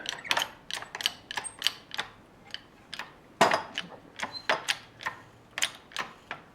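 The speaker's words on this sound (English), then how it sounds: "let's get the jack handle right. Putting some more pressure through it now." A jack handle is pumped to force out a stuck bicycle seatpost, giving a string of sharp metallic ratcheting clicks in an irregular rhythm, close and crisp against a quiet background.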